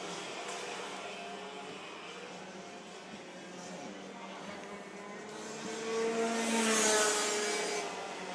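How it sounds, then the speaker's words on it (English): Rotax DD2 125cc water-cooled racing karts with two-speed gearboxes run in a championship race, a distant continuous engine drone that swells briefly as karts pass, with no speech. "There is Scotty Cleveland, a 2-speed gearbox. Rotax DD2 motor."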